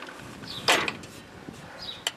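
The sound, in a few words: pulley turned by hand to walk belt onto Toro mower deck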